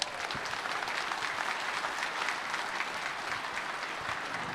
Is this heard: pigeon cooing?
no